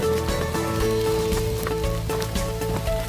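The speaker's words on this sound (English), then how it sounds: "Ooh, it's coming down. You're getting soaked." Heavy rain pouring down outdoors during a pig hunt, a steady dense wash of patter that fills the whole short stretch, with some faint rustling and no speech.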